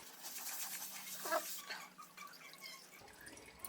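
Engine oil draining from a Peugeot RCZ, a steady, faint liquid trickle and patter into a drain pan, with no talking.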